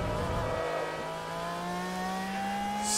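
A McLaren F1 race car engine in Forza Motorsport 3 revs steadily upward, its tone climbing smoothly in a continuous loud whine that stays close for about three seconds.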